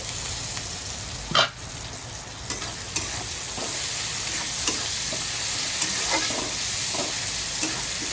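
Tomato masala for a fish curry being stir-fried in a pan, a steady close sizzle broken by occasional sharp scrapes and clacks of the stirring spoon, with no voices.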